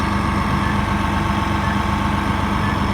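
A New Holland tractor engine runs steadily during exhaust cleaning, a loud, unbroken low diesel drone with a constant hum and no change in pace for three seconds.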